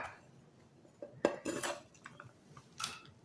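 A knife cuts onion bun dough into thirds, making a few sharp clicks and scraping taps against the board with short quiet gaps between them.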